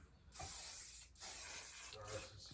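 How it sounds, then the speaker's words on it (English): Redken spray wax hairspray hissing from a can in two or three close, sustained bursts with short pauses between them, near and fairly quiet. "I'm gonna hit this with a little bit of hairspray. My Redken spray wax."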